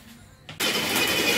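A 1/5-scale Losi 5ive-T RC car's small gas engine catches after a brief quiet moment, then runs loud and buzzing at close range.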